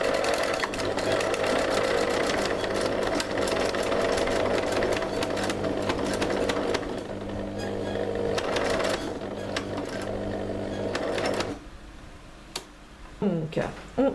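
A sewing machine set to a longer stitch length hums in a fast, steady run while stitching a red fabric cuff, then stops near the end, leaving faint handling sounds.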